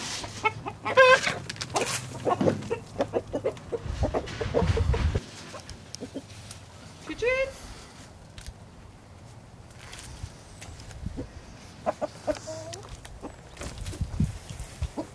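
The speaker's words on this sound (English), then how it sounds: "some of our chickens jump right over the fence and they just run all over our yard" Chickens and a rooster cluck and call around a backyard, intermittent bird calls scattered over a quiet outdoor background with occasional rustling and bumps, fairly distant and moderate in level.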